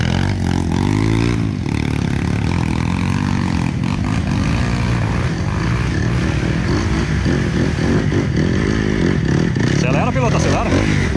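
Trail motorcycle accelerating during an off-road trail ride in Vespasiano Corrêa, RS, a loud continuous engine drone with rising revs throughout, while people shout and cheer over it.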